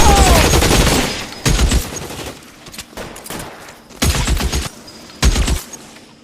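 Gunfire in an L.A. Noire shootout: loud close bursts of shots in four separate volleys, each a dense crackle of rapid rounds with quieter gaps between, and a brief shout at the start.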